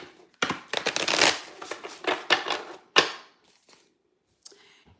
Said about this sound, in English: So I just shuffle one more time,